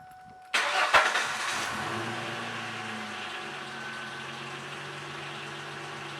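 A 1994-2004 SN95/New Edge Ford Mustang cranks briefly and fires up just after a new fuel filter is fitted, then settles into a steady, close idle with no talking.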